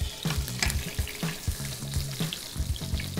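A bone-in shio koji short rib sears in a pan, its fat rendering and crisping with a steady close sizzle, punctuated by repeated thumps and scrapes as the meat is turned, with no talk.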